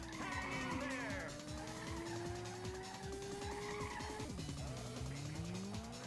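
Race car engine in the Ridge Racer video game (PlayStation, 1995) whines steadily, rising in pitch across the lap, with loud tire squeals layered over it in continuous, close, game-audio sound.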